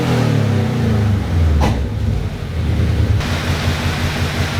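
A Subaru BRZ/FRS/86 fitted with unequal length headers and an overpipe idles with a loud, steady, throbbing exhaust rumble. A brief rising surge of revs interrupts it partway through.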